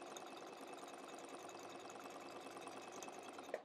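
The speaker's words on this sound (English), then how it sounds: "Now you're going to sew it together, the two squares together." A sewing machine stitching two quilt squares together, a steady, faint mechanical whirr running throughout with a small click at the end.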